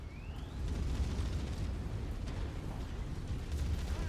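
A mech blowing up in MechWarrior 5: Mercenaries, heard as a sustained, loud, low rumbling roar that keeps going for several seconds with no break.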